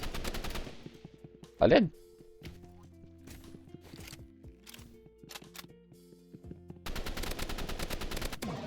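Video game weapon gunfire, an Uzi among them, comes in short bursts of shots and then a long dense stretch of rapid fire near the end, with a voice calling out briefly in the middle.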